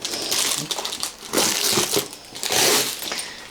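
Plastic packaging of a perishable grocery parcel crinkles and crunches in close, irregular bursts as it is torn open, with no talking.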